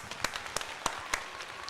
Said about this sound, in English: Give Trey a round of applause.